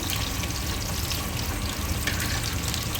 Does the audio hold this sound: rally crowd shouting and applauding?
no